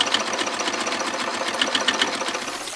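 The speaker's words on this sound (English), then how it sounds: "we're straight stitching around the edge of the table runner before we start our quilting process" A sewing machine runs a straight stitch around the edge of a crazy quilt table runner, giving a steady, close, continuous mechanical whir for the whole stretch with no talking.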